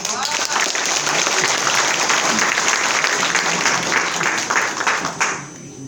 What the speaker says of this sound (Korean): 주민 자치 여러분들 각자의 박수를 부탁드립니다.